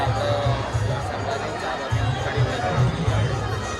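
A dense crowd murmurs and chatters outside the exit of the Ramapir temple, a steady hubbub of many voices with occasional louder calls nearby.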